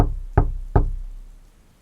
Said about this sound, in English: I'm knocking.